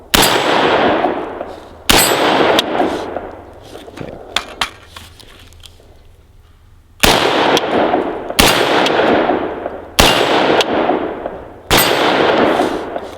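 Rifle shots from an ARAK 21 XRS ring out against a swinging steel target, several loud sharp cracks each followed by a metallic clang and ringing decay, spaced irregularly with a quieter gap midway.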